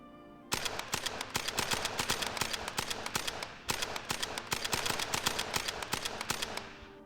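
Artillery bombardment in the World War I strategy game On The Western Front, a dense crackling barrage of rapid blasts in two long bursts separated by a short break, loud and continuous with no talk.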